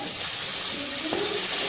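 Egg frying in a wok alongside pushed-aside potatoes for egg chowmein, giving a steady close hiss and sizzle throughout with faint crackles.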